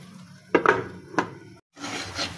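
A lid set onto a pot of red amaranth greens cooking on the stove, a few sharp close metallic clinks and a scrape, then a brief silence and low background noise.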